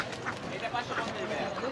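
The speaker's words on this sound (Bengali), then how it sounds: "আর এই যে দেশি হাঁস" Native deshi duck quacking at a busy riverside poultry market in Tongi, a few short calls rising over steady crowd chatter and nearby voices.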